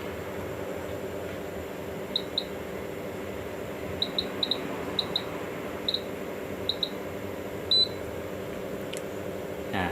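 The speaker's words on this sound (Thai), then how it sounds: "ตัว UPS มีเสียงอะลามแล้วนะฮะ แจ้งเตือนว่าตอนนี้ ใช้ไฟจากแบตเตอรี่นะครับ" A 240VDC 10000VA, 8000W UPS sounds its battery-power alarm: short, thin double beeps repeat at irregular intervals over a steady low electrical hum.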